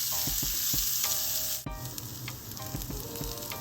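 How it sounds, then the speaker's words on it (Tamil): Onions sizzle and crackle in a hot pan, with intermittent scraping and stirring sounds close by; no voices. "வெங்காயம் இந்த மாதிரி நல்லா வதங்கிடுச்சு."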